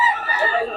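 Chickens offered for sale at a busy poultry market in Bocaue cluck and call loudly and close by in a short burst of squawking.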